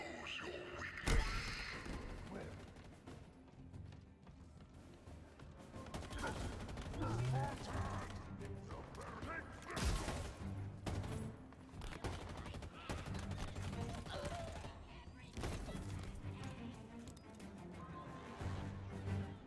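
Gunfire in the Halo Infinite campaign, bursts of shots scattered across a busy, loud battle mix with game music and effects, a voice talking at times over the action.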